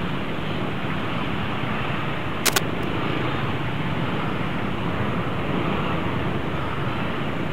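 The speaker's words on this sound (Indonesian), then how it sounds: "Macetnya sini, ini macet." Congested road traffic in a morning jam, a loud, steady, close rumble of car engines and tyre noise with a brief sharp click partway through.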